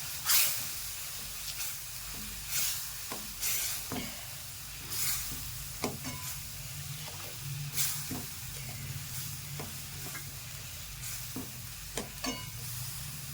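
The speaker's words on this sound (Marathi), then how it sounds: "आता ह्याच्यात आपण थोडंसं गरम पाणी टाकू आणि थोडंसं शिजू" Masala cooks in oil after a splash of hot water for dhaba-style paneer masala, with a soft, steady sizzle and hiss broken by occasional scraping stirs, and no voices.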